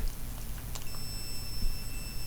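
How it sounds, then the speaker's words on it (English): A digital multimeter set to continuity mode, probes touching a mousetrap's wiring, lets out a steady high-pitched tone that starts partway through and holds to the end, clear over a low background hum. "I have my DMM set to beep when continuity has been established between those 2 points"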